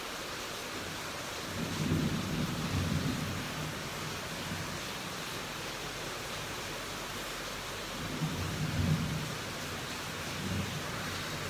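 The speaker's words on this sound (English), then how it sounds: "Do you guys hear that thunder?" Thunder rolls through a rainstorm in two low, rumbling swells several seconds apart, distant and muffled over a steady hiss of rain, with no voices.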